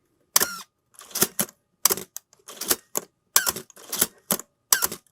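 A Canon AE-1 camera shutter fires repeatedly at a fast speed during a shutter repair, a series of sharp close clicks and mechanical clacks in irregular pairs separated by brief silences.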